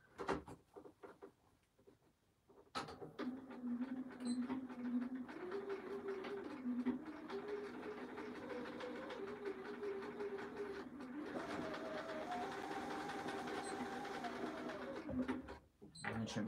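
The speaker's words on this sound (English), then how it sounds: "I'm going to stitch across there 1 inch," A sewing machine runs steadily for about thirteen seconds, stitching across the corner of a zip pouch, with a continuous motor hum and needle rhythm after a quiet start and a brief stop near the end.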